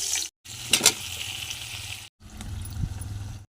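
Meat fat dropped into a hot frying pan for a pumpkin dish, giving a short burst of sizzling and spattering that cuts out briefly, then resumes as a steady close sizzle with low rumble underneath.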